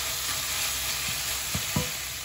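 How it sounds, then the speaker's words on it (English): Steady broadband sizzle of mushrooms and onions frying in a pan, close up, with a few soft scrapes or stirs near the end. "And I love that sizzly sound."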